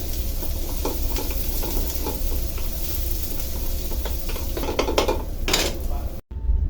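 Pork sautés in coconut oil in a pan, sizzling and hissing steadily up close while a utensil scrapes and clinks against the pan, with a brief cut near the end.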